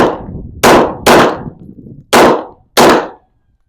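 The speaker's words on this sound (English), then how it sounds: "So, same thing, 5-shot group, X5, about 15 yards." Sig P320 X5 pistol firing a five-shot group at about 15 yards outdoors, five loud sharp reports with a quick double tap among them, each followed by a short decaying echo.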